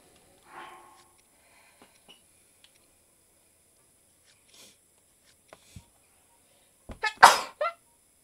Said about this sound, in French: Ça c'était un gros éternuement.